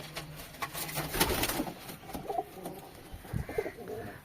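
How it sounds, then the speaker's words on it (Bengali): High-flying pigeons in a rooftop loft coo softly amid scattered rustling and light wing or foot sounds, faint and close, with no voices. "এখানে খুব ভালো ভালো হাই ফ্লাইং পায়রা রয়েছে"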